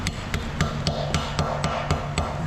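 About nine sharp hammer blows land at a steady rhythm on a small lead prill, each a bright clinking tap, close by.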